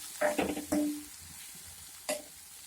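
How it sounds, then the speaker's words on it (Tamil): Tomato masala sautés in a pan over a low flame, with a few short bursts of stirring and scraping over a soft sizzle; the strokes come in a quick cluster, then pause before one more scrape. "நல்லா வதக்கிட்டுக்கோங்க"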